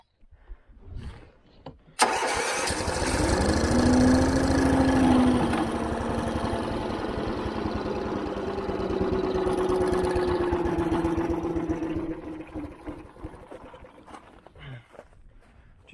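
A vehicle engine cranks and catches, then runs at a rising and falling rev, loud and close as it pulls away, before fading toward idle at the end.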